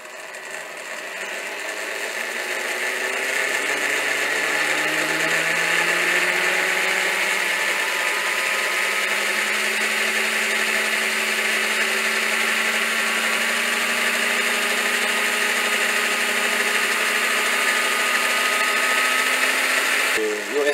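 A USA Trains G scale SD40-2 model diesel locomotive's electric motor hums smoothly after lubrication, a steady whine that rises in pitch as it spins up and then holds constant, close and loud, with a brief stop at the end.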